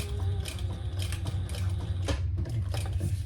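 A sewing machine runs steadily, stitching a crossbody strap from the front side, with a continuous close mechanical whir and rapid needle clatter throughout.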